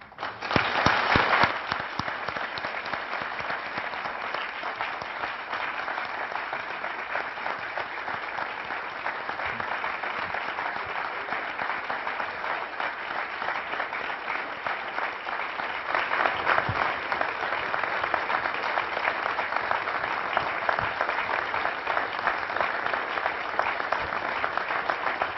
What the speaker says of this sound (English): Enough clapping.